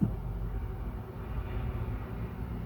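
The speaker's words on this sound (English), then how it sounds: "we do live by a train track, and occasionally you hear the trains." A train rolls past on a nearby track, a steady low rumble that holds at a moderate level throughout with no voices.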